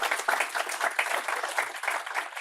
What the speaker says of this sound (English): Please give a round of applause to Hadi.